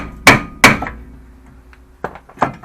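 Four sharp metallic hammer blows on a 2012 Mitsubishi Lancer rear brake rotor ring out close by, two loud strikes first, then a pause and two lighter hits.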